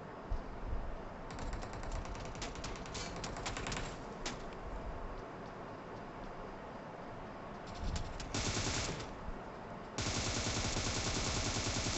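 Bursts of automatic gunfire in a battle royale video game match, rapid rattling volleys separated by short pauses, with a denser, steadier stretch of firing at the end.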